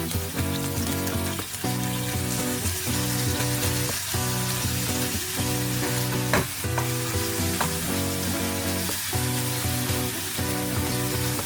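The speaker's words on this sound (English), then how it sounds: "Place your prawns once the oil is hot and you can hear the sizzling sound." Prawns sizzle in hot oil in a pan, a loud, steady, close frying hiss with a few stirring clatters and scrapes throughout, and no voices.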